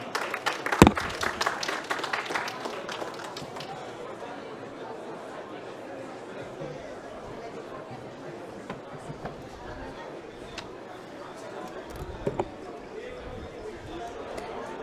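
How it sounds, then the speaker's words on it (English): A short burst of clapping from a crowd fades quickly into low murmuring chatter and scattered noises from the room. "Round of applause, everyone."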